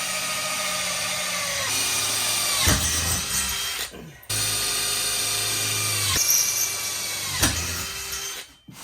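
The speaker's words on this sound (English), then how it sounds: "Get these drilled out, get this mounted, and we'll get to welding." A power drill, then a step bit, bores holes through metal for a hitch mount on a Chinese-made quad, whining steadily with pitch dropping as it bites, with brief pauses between holes, loud and close.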